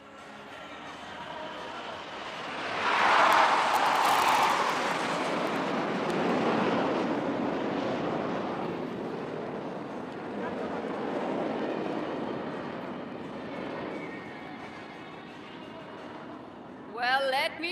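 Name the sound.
Indian Air Force aircraft crossing over Marina Beach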